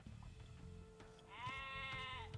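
Sheep bleating in a strategy video game, a single quiet drawn-out bleat near the end over soft game ambience.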